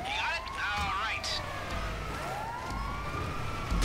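Emergency siren wailing in the GTA video game as an ambulance is stolen, a rising and falling tone sounding steadily throughout amid game noise, with chirpy bursts early on.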